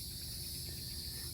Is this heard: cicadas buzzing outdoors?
yes